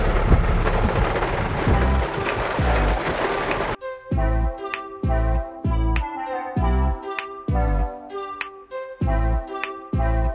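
Rain with thunder during a storm outside a Walmart store: a dense rumbling, rushing roar at first, then broken into loud repeated bursts of rain noise with short gaps.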